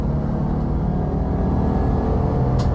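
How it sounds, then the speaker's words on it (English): A small V6 race car engine drones steadily at high revs under full throttle, loud and close, with a constant dense rumble throughout. "And it sounds great too. For a little V6, it's working hard."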